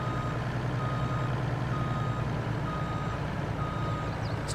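A truck in a farming video game sounds a steady series of evenly spaced reversing beeps over a constant low engine rumble, with no talking.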